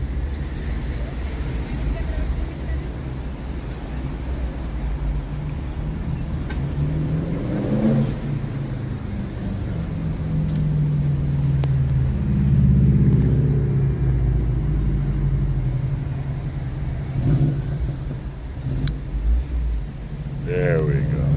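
Car engine idling and rumbling while stuck in traffic on a road in Hawaii, a steady low drone with slight swells as the vehicle creeps along, with a voice talking faintly inside the cabin.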